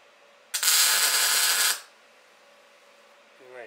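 A tack weld on a Wisefab E36/E46 angle kit part crackles in a single loud, close burst of about a second, then cuts off sharply, followed by quiet room tone and a faint clunk.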